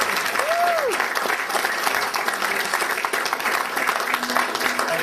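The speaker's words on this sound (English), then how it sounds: "let's have a round of applause for the man, Lonnie Lee." An audience applauds for Lonnie Lee at a weekly show, a dense steady wash of clapping that holds for the full stretch without letting up.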